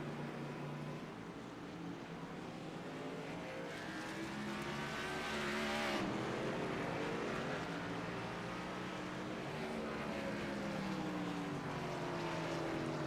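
Simulated race cars at Sonoma Raceway in iRacing, several engines droning and rising in pitch, peaking loudly as one passes close, then settling into a sustained multi-car roar.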